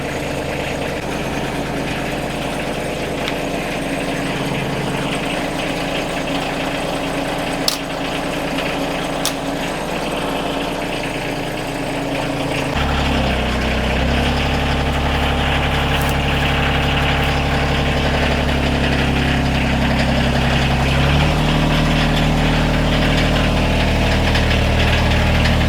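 A tractor engine idles steadily in freezing cold weather while warming up. The idle runs continuous and fairly loud, and its pitch drops and the engine deepens partway through before it settles again.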